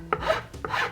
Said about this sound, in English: Sanding off the hardened stuff.